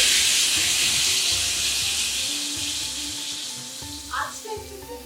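Pieces of hilsa fish fry in hot oil with a loud, dense sizzle and hiss that starts strong, gradually eases, then flares briefly near the end.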